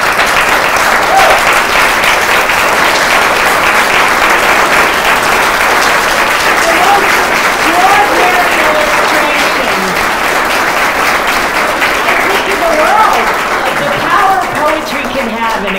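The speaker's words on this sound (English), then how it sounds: "Can we all stand up and just give Carmen a huge round of applause?" A standing audience at a poetry event applauds poet Carmen Tafolla with loud, sustained, dense clapping that fills the room, with scattered cheers and voices mixed in.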